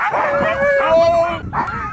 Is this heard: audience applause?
no